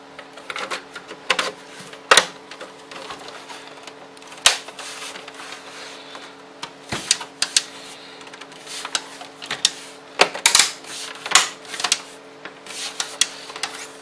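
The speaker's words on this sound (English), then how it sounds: "Next, we'll be placing the six Torx screws." Six Torx screws are driven into an Xbox 360 Lite-On BenQ disc drive, giving irregular sharp clicks, scrapes and ratcheting taps over a steady faint hum, with no talking.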